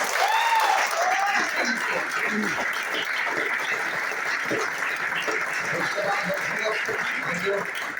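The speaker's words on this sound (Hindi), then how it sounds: "चैत्य लीडर मनोज सिंह सर, उनके लिए जोरदार ताली होना।" A crowd applauds steadily and loudly for the whole stretch, a dense wash of clapping with a few faint voices mixed in.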